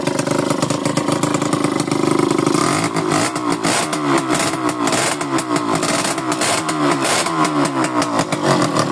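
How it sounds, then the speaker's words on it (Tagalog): A rebored Yamaha L2 motorcycle engine with a new piston runs for break-in, idling steadily and then popping and revving in uneven, close, loud bursts, with a slight leak hiss from a loose elbow joint. "papaandarin lang muna natin yan siya kasi nga bago yung piston na bagong rebor i-break in muna natin yan"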